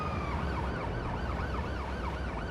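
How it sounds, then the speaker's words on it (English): A video game ambulance siren sweeps up and down in a steady repeating cycle over a low engine rumble, fairly quiet and continuous. "They don't like the loud sirens?"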